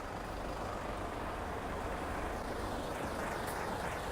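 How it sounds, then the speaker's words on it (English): A big truck rumbles past on a Hong Kong street, giving a steady, fairly faint low roar of traffic with no clear peak. "Big truck"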